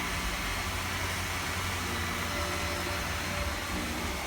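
A vacuum cleaner runs steadily on the second floor of a home, a continuous broadband roar at constant level with no talking over it.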